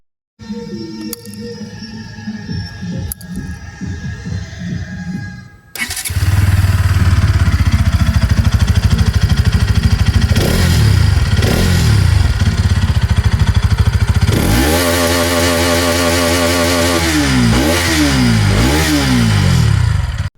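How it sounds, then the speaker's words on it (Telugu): A 2026 Bajaj Pulsar NS 200cc with an underbelly exhaust idles with a loud, throaty note, then revs up and down several times in rising and falling surges, close by. "ఈ బైక్ లో ఎగ్జాస్ట్ వైజ్ అండర్బెల్లీ ఎగ్జాస్ట్ ఇచ్చారు, సౌండ్ వినడానికి చాలా బాగుంటుంది, ఒకసారి వినండి"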